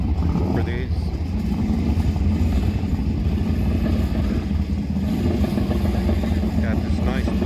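A blue and yellow drag racing motorcycle runs steadily at a dragway during test and tuning, its engine droning loud and continuous, with other bike noise and crowd or voices underneath.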